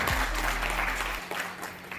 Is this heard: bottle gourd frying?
no